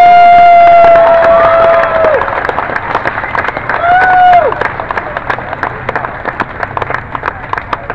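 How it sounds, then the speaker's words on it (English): Applause and crowd cheering ring out at an Irish Celtic concert, a dense wash of clapping under a long sustained whistle-like cheer that fades into scattered claps toward the end. "I'm going to need a bigger round of applause"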